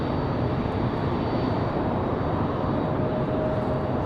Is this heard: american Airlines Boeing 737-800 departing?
yes